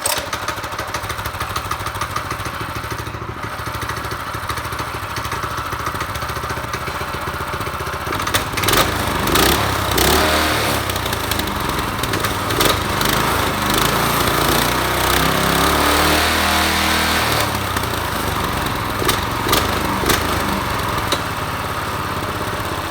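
A Predator 212cc single-cylinder engine idles on a go-kart, a loud, continuous, close-up rattling drone with a steady chugging pulse that lifts briefly midway before settling again.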